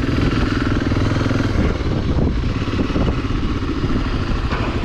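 Motorcycle ridden near the Bolivian border at La Quiaca, a continuous loud engine rumble mixed with wind and road roar, heard up close from the rider's position with no talk.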